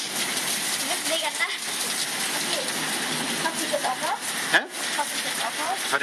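Heavy rain in a coastal thunderstorm, a dense, loud, continuous wash of drops drumming on surfaces with one sharp knock partway through.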